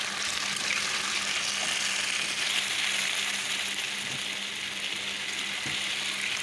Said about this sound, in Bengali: আলুটা দিয়ে দিলাম, একটু ভাজা ভাজা করে নেব